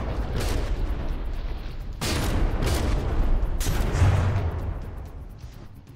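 Heavy naval artillery from quintuple-barreled turret guns firing in the naval combat game From the Depths, a dense barrage of loud booms with sharp onsets at intervals, rolling rumble sustained throughout and no talk.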